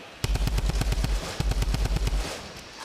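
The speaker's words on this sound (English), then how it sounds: "A lot of AR ammo being used." Assault rifle fire in a Fortnite Summer Skirmish tournament match, two rapid bursts of evenly spaced sharp shots, loud and close, with a short pause between them and a fading tail.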